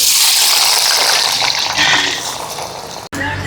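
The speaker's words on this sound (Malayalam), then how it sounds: "എണ്ണ തിളച്ച് വരുമ്പോഴേക്കും നമുക്കിതിലേക്ക് സവാള ഫ്രൈ ചെയ്യാൻ വേണ്ടിയിട്ട് കൊടുക്കാം" Sliced onions frying in hot coconut oil and ghee give off a loud, steady, close sizzle throughout, broken by one brief dropout near the end.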